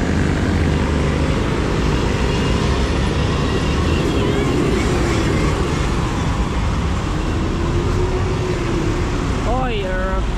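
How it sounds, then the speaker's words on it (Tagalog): An airplane passes overhead as a loud, steady broadband roar with a slowly shifting drone, under continuous outdoor noise, while people talk nearby. "Hoy, aeroplano."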